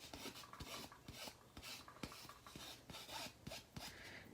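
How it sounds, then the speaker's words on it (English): A buffing block rubs back and forth over the edges of a hand-stamped metal garden marker, with fine then super-fine grit. The strokes come as steady, close scratchy rasps in a quick, even rhythm with no talking. "I come back in with my buffing block, and I always want to go with my fine first"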